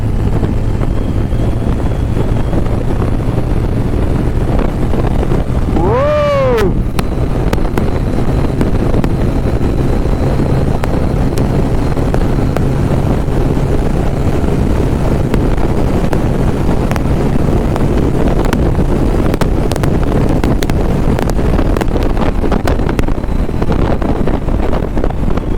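Steady roar of wind buffeting the microphone on a superbike ridden at speed, constant and loud throughout, with a brief rising whistle-like tone partway through.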